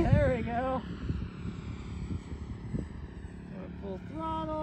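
FMS 64mm EDF F-16 model jet flying at full throttle, a steady airy whine and rush of the ducted fan heard at moderate distance, with people talking over it throughout.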